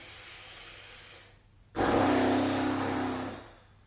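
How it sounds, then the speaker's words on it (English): After a soft inhale, a person blows a buzzing lip trill through closed lips, a sustained fluttering rumble lasting under two seconds. "on the exhale we're going to make a sound whilst keeping the lips together"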